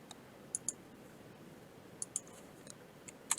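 A few sharp computer keyboard key clicks, an enter key among them, come in small separated bursts against a quiet room, close and crisp.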